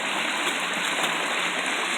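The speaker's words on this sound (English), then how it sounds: "Water coming from two different places." Mountain stream water in a rainforest rushes and splashes steadily, a continuous broad hiss of flowing water close by with no voices.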